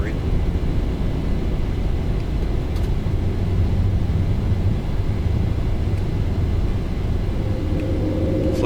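Airliner engines in the X-Plane 12 flight simulator roar steadily while climbing after takeoff toward DCA, a continuous, loud, low rumble that stays even throughout with no talk.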